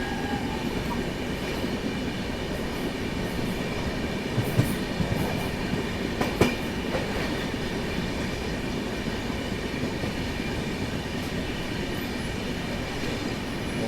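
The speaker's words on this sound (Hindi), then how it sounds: "पहली बार भाई मैं सासाराम जंक्शन को स्किप करते हुए देख रहा हूँ, वो भी ट्रेन के अंदर से।" Interior of a train speeding through Sasaram Junction without stopping, a loud steady roar and rumble of wheels on track with faint squeals and a couple of brief clanks, continuous with no talking.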